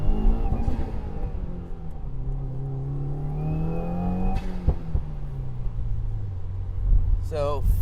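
A car pulls away in first gear on a wet road on stock tires, its engine note climbing steadily, easing for a moment, then settling into a lower drone with a brief chirp near the end.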